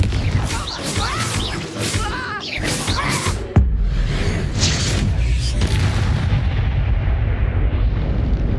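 Blasting spell explosions from the Hogwarts Legacy video game boom heavily and continuously, with a sharp crack midway followed by sustained rumbling blasts and debris, loud and close amid chaotic combat effects.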